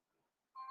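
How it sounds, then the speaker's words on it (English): A phone rings briefly during a recorded talk, a clear electronic tone starting abruptly and sounding close over near-silence. "Sorry about my phone."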